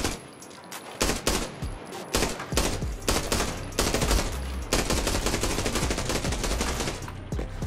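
An M4A1 rifle in the game Arena Breakout fires in rapid automatic bursts, the sharp repeated cracks starting sparse then merging into a sustained spray of loud close shots.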